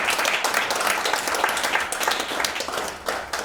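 Audience at an indoor seminar applauding, a steady wash of many hands clapping throughout with dense, continuous claps and a brief lull before a final swell.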